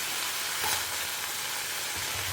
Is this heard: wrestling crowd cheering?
no